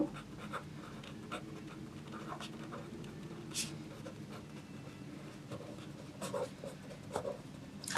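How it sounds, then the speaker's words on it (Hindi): Pen or pencil scratching on paper as a title is written, soft irregular strokes and taps over quiet room hiss, faint and close. "यहाँ पर टाइटल लिख लेते हैं।"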